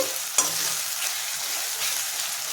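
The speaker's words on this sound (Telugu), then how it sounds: "స్టవ్ మీడియం ఫ్లేమ్ మీద పెట్టుకుని ఒక 5 నిమిషాలు ఇలాగ వేపించుకోవాలి" Prawn curry ingredients fry in a pan over a medium flame, a loud, close, continuous sizzle with one sharp stir or scrape near the start.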